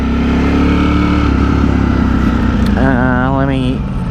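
A Ducati Streetfighter motorcycle with a Brentune tune, in wet mode, cruises in first gear at low speed, a loud steady engine drone that swells briefly near the end, with a rider talking over it.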